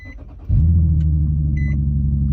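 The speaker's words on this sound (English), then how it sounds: "so I'm gonna give y'all a nice little cold start." An Infiniti Q60/G37 is started from cold: a quick starter crank, then the engine catches and settles into a loud, steady, deep idle rumble, with faint beeps over it.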